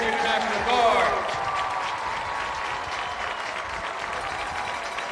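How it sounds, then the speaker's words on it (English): Crowd applause at a high school football kickoff game, Bearden at West, a broad steady wash of clapping from the stands lasting throughout, with an announcer's voice over it at the start. "give them a big round of applause"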